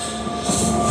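A train carriage rolls along in a drama scene, giving a steady close rumble with a faint sustained whine that swells slightly midway; no voices.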